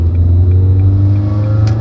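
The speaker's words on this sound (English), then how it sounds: "We'll see if we can pick up some sound of the car here, so you can tell that it's a lot louder" A 2001 Ford Focus ZX3 engine fitted with aftermarket headers and a deleted catalytic converter idles loud and close, a steady deep droning rumble with a faint higher whine, no voices.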